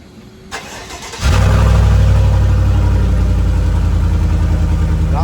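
A Chevrolet Silverado Trail Boss Z71 with its muffler sawed off cranks and fires, then settles into a loud, steady, throaty idle with a deep rumble that holds to the end.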